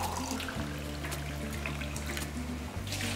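Water pouring steadily from a tap into a pot of rice and lentils, a continuous close rushing splash with a tone that shifts as the vessel fills.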